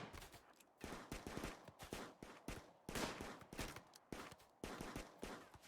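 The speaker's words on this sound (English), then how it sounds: "Plum's rate of fire is extremely high and has no cooldown between shots and just can rattle them" Rapid bursts of gunfire in the colony game RimWorld, shots rattling off in quick succession with almost no pause, dense and continuous throughout.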